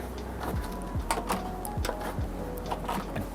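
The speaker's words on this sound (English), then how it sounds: "Let's go get our PSU screws and screw that in." PSU screws being driven into a gaming PC case by hand, giving a series of faint, scattered clicks and short scrapes of metal at close range with no one talking.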